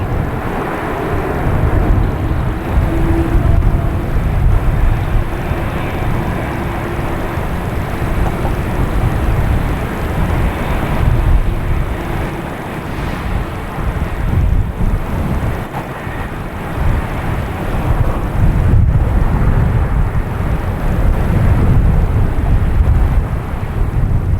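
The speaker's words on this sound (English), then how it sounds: "we have United Airlines heading to Newark, a 737-900, flight 1606" A United Airlines Boeing 737-900 jet at Boston Logan Airport, a continuous loud roar of the airliner mixed with blustery wind buffeting the microphone, holding steady without speech.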